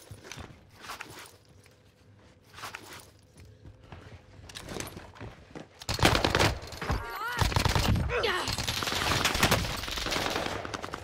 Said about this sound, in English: Shots here.